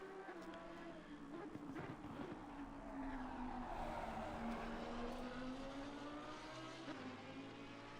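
A GT3 race car lapping the Kyalami circuit, its engine note a steady, fairly distant drone that rises and falls through the corners, with no talk over it.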